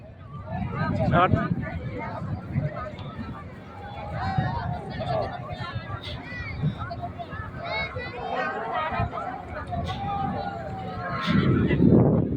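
Horses being ridden at a busy outdoor gathering among crowds and motorcycles neigh and whinny several times, with hoof clip-clop and voices chattering throughout, a louder burst near the end.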